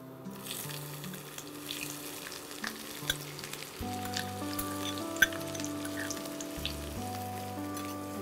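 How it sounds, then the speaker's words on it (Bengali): Chopped onions fry in a pan of hot oil with cardamom for railway mutton curry, a soft, steady sizzle under a background musical tone, with a few faint clicks of stirring. "পেঁয়াজটা ভালো করে ভাজতে হবে।"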